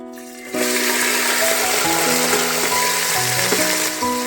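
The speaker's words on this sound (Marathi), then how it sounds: "2 ते 3 चमचे तेल घालूयात आणि मॅरिनेट केलेलं चिकन घालूयात" A sudden loud hiss as marinated chicken hits a few spoonfuls of hot oil, then steady sizzling frying continuing close up.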